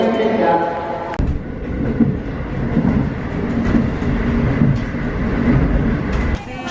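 Train carriage noise during an evening ride back to a hotel in Hokkaido, Japan, in winter: a steady, loud rumble with rail clatter and a few thumps, continuous throughout, with faint voices in the background.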